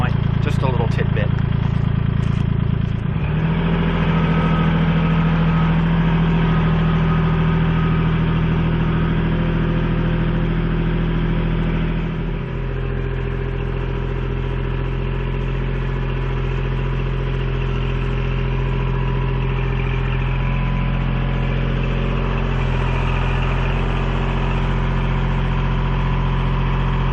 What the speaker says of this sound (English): while I'm out here doing some tractor work with those pallet forks